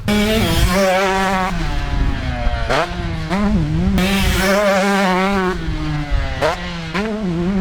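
A two-stroke dirt bike runs loud and close on a Florida sand motocross track, its engine buzzing and revving up and down repeatedly as the rider hits a straight and scrubs sideways at speed.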